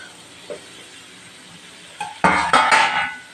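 A spoon scrapes and clinks against a pan while rice is stirred into coconut mustard masala, starting with faint taps and then a cluster of louder metallic scraping strokes.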